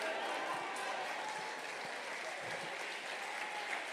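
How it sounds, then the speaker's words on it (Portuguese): A large audience applauds in a steady, sustained roar of clapping that holds at an even level throughout, with a faint voice underneath. "Se essas palmas são de esperança, aumente elas"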